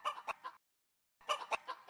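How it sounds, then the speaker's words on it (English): A cartoon chicken on a little farm clucks in two quick bursts of sharp, nasal cackles separated by a moment of silence. "there lived a little chicken called Daisy"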